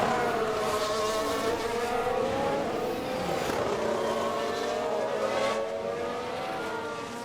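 A Formula 1 car driven by Ricciardo screams across the start-finish line, a sustained high-revving engine whine with shifting pitch bands, loud and steady throughout with no talk.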